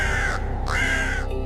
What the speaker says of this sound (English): Crows communicate.